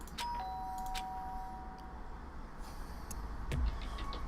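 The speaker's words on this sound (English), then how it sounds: "Did I hit the doorbell?" A doorbell chimes in the video game Danganronpa Trigger Happy Havoc, a clear electronic ding with a sustained ringing tone that fades, followed by quiet ambience and a low thump.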